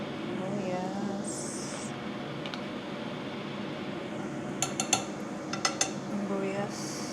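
Onion going into a pan to sauté in a home kitchen, with soft sizzling under a few clinks and scrapes of utensils against cookware, plus a brief cluster of sharper metallic taps toward the end.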